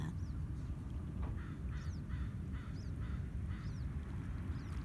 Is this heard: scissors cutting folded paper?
no